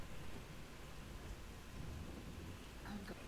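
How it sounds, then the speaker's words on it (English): Rumbling thunder with steady rain in a tabletop role-playing game soundscape, a continuous low roll and hiss running throughout at moderate level, with no talk. "You have to listen very closely for a moment because you think it's just thunder"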